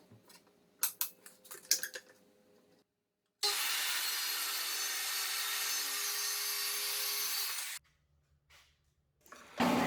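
A saw rips scrap plywood into strips in one continuous, loud, rasping cut lasting about four seconds, preceded by a few light wooden knocks and handling noises, with no talking.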